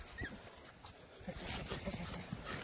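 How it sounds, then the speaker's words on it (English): A terrier out ratting yips and whimpers in short excited bursts amid rustling and outdoor noise, the dog fairly close. "My dog barking."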